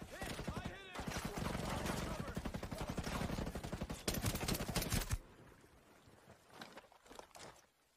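Rapid gunfire and explosive bursts from Ghost Recon Breakpoint on its hardest difficulty, a loud dense volley for about five seconds that drops to scattered fainter shots and thuds.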